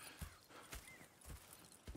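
Horse hooves clip-clopping in Red Dead Redemption II, a few soft, evenly spaced thuds at a slow walking pace, faint and distant against a quiet ambient background.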